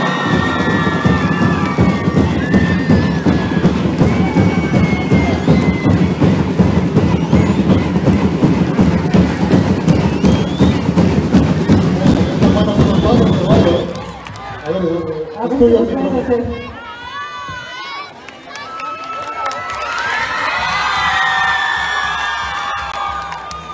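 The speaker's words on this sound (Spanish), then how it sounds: "¡Fuerte aplauso!" A crowd at a children's royalty election event on Isla, Veracruz, claps and cheers loudly and continuously for about fourteen seconds, with shouts over dense applause, then it fades and gives way to other sounds.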